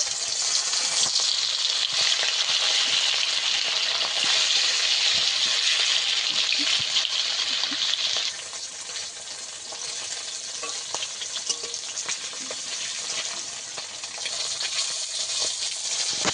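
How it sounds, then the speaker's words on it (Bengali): Pieces of bhola fish fry in hot oil with a steady, dense sizzle that carries through the whole stretch, easing slightly partway as the fish is moved and turned. "এবার বাকি মাছগুলো আবারও একইভাবে ভেজে নেব।"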